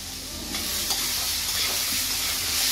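Garlic frying in hot oil in a pan while being stirred, a continuous close sizzle and hiss with soft scraping movements throughout and no voices.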